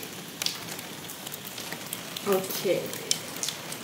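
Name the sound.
heavy rain in a storm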